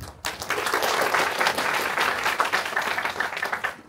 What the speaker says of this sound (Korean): 우리 일반사무업종본부의 보험설계사지부 오세정 지부장님을 큰 박수로 모시겠습니다